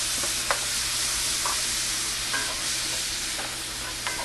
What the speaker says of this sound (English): In go all those delicious peppers. I want to get every last one of them.